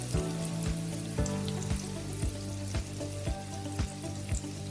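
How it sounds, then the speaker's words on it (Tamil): Onions sautéing in a pan for bitter gourd thokku make a steady close sizzle, with soft tonal music running underneath throughout. "வெங்காயம் வதங்கட்டும்."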